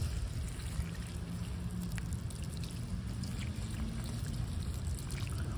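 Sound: water poured onto a potted plant

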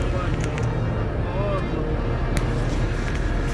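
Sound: traffic moving both ways on a jammed road

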